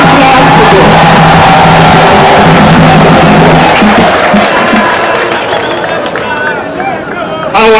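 Large gathered crowd cheering and yelling at a loud, close-up level, a dense roar of voices that rises and swells steadily and then fades toward the end.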